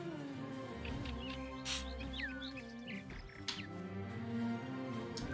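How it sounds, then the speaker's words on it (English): Bird calls in a pheasant hunting video game: clear chirps and tweets ring out over a steady low background hum, a few brief calls spaced across the scene. "A nice bird."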